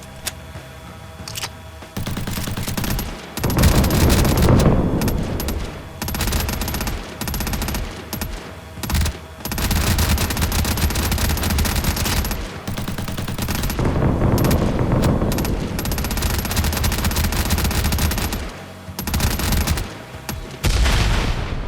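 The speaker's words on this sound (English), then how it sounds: "And just fire into that lineup." Sustained automatic gunfire pours into a line of zombies in a zombie shooter game, long loud bursts broken by brief pauses for reloading.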